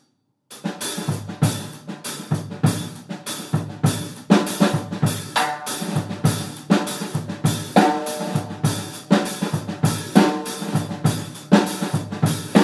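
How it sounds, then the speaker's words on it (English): Calypso beat on a drum set with a snare drum variation, sharp rim shots cracking over a steady hi-hat pattern, close and loud throughout, with no talking. "Now we can add a variation on the snare drum just like we did with our hi-hat"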